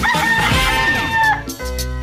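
Rooster crowing in a radio station jingle, a loud, strained cock-a-doodle-doo with a long rising and falling call, followed by a brief bright musical sting.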